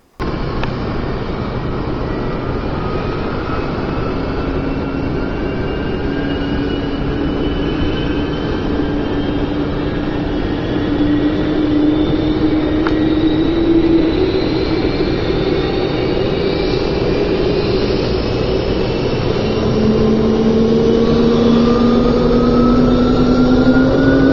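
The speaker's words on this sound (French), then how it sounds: "voici le démarrage de notre Tupolev, la veille du vol et depuis l'extérieur" Tupolev 134 jet engines spool up and whine steadily outdoors, rising tones climbing over a constant loud roar throughout.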